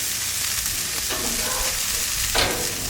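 Peameal bacon sizzles steadily in a hot pan as it is flipped, a continuous close frying hiss with a brief louder burst near the end and no talk.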